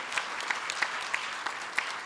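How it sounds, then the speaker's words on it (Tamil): A modest audience at a Tamil school's 25th anniversary celebration claps for Radhika madam, a fairly quiet, loose patter of hands with a few distinct louder claps standing out over about two seconds. "ராதிகா மேடத்துக்கு ஒரு பெரிய கைத்தட்டல்கள்"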